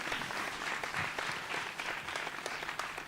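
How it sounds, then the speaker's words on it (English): An audience applauds a live music performer at a music event, with steady dense clapping of moderate loudness throughout and no voices over it. "give him a round of applause"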